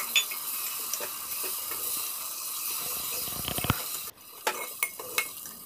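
Tomatoes cook in a pan with turmeric, cumin and ground chilli, a soft sizzle under scraping stirs and a few metal clinks of spoon against pan near the end.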